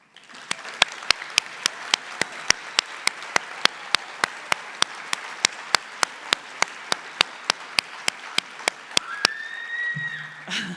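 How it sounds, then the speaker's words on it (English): Audience applause at a nursing pinning ceremony, steady dense clapping in a hall with sharp individual claps standing out at regular intervals, ending as a voice begins to speak. "we'd like to recognize and clap for you as well"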